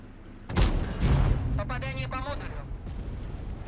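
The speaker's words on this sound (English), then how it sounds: "You know what, I'm going to fire." A tank cannon fires in World of Tanks, one heavy close boom with a rumbling tail, followed by a player's voice talking over the fading rumble.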